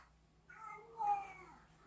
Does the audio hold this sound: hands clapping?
no